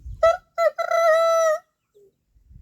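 Chickens on a small flock, including a Wyandotte hen, give a close, loud squawking call in three drawn-out bursts, the last one long, then a faint short cluck and quiet.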